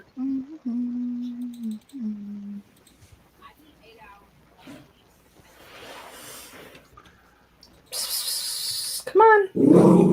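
A grouchy pet dog growls and whines while being moved indoors, with a movie playing nearby. The growls come in short bursts between stretches of talk, and a louder vocal outburst closes the sequence.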